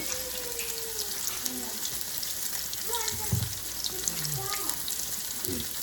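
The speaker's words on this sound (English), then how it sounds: "stick it in the hot oil" Pork chops frying in hot oil in a home kitchen, a continuous close sizzle with crackles and pops, while faint voices murmur in the background.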